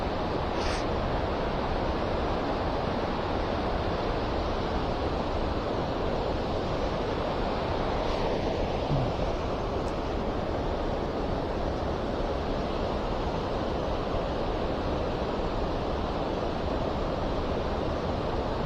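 Steady broadband rushing of white water at Busse Lake, with wind noise blown across the microphone, runs as a constant loud wash from start to finish without any voices.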